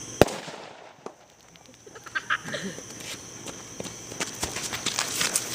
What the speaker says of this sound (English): That's how you make a Works bomb.